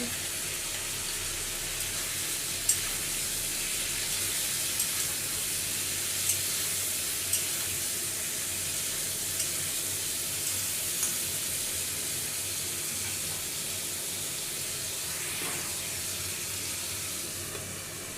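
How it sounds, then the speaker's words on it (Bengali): Potatoes fry in oil with turmeric and salt for Bengali alur dom, giving a steady, dense sizzle that hisses evenly throughout with no talking. "আলুটাকে প্রথমে আমি লাল লাল করে ভেজে নেব"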